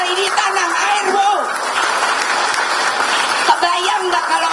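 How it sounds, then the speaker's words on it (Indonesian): An audience claps at a political speech by Megawati, giving steady, dense applause that runs throughout while a voice speaks over it. "tepuk tangannya aja nggak meriah"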